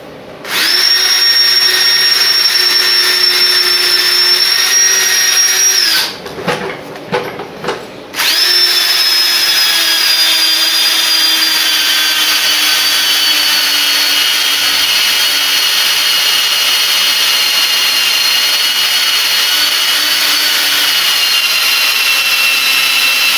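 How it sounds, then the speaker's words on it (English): A power drill bores a hole into the engine block of a 240SX during an LS swap, a loud, steady high whine that pauses briefly for a few seconds of sputtering, then resumes and holds to the end. "Let's go ahead and get this drilled."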